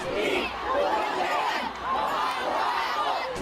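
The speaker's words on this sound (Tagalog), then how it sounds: "Buhay na buhay din ang crowd na sama-samang sinigaw ang chant" A concert crowd in the Philippines chanting together at an OPM music show, a broad roar of many voices rising and falling in unison, fairly distant and sustained.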